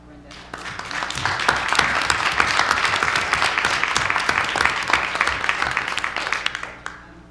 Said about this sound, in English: I'd like to have a round of applause for Brenda